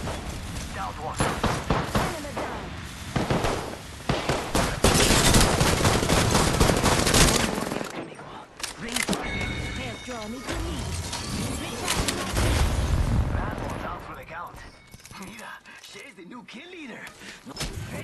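Gunfire in the Apex Legends video game, dense overlapping bursts of automatic fire and thuds during a firefight, loud at first and then thinner, with voices speaking over the shooting.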